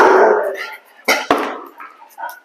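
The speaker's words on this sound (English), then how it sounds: "Are you barking at Mom?" A dog lets out a couple of sharp, close barks mixed with some vocal noise, followed by quieter yips.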